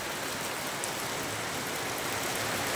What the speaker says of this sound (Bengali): ছাদে কিন্তু এখনই প্রচুর শব্দ শোনা যাচ্ছে, মনে হচ্ছে অনেক বৃষ্টি হচ্ছে